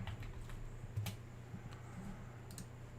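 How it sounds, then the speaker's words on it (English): Faint clicks of typing on a computer keyboard, a few scattered keystrokes over steady low background hum, with no talking. "this time I'm going to type in Keynote"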